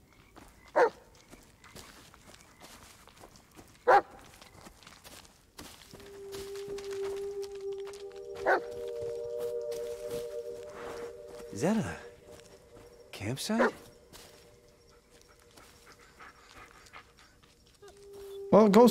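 A dog in the horror video game Blair Witch gives a few sharp barks and pants between them, alongside footsteps and a lingering musical tone, while someone talks.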